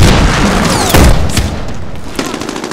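A single sniper rifle shot in Medal of Honor Warfighter rings out as a sharp boom amid steady battlefield noise, with a few fainter distant cracks afterward.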